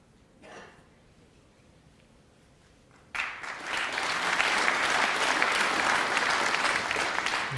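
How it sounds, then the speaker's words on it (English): Crowd applause at a snooker match, the Welsh Open final between Stephen Maguire and Stuart Bingham, breaks out suddenly after a quiet stretch and holds as a dense, steady clatter of clapping through to the end. "He deserved that round of applause"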